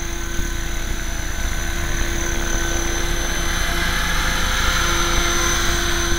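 Small RC model helicopter flying and spinning through pirouettes, a loud continuous rotor buzz with a steady high whine held throughout, close to the microphone with no talking.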